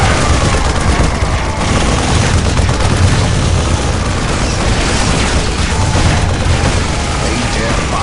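A battle rages in Warhammer 40k: Dawn of War Definitive Edition, with dense, continuous gunfire, rapid bursts and booming explosions layered into a loud, unbroken roar, and voices speaking underneath.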